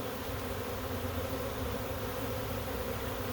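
Honey bee swarm buzzing, a dense continuous drone of many bees close by, steady and unbroken with no voices.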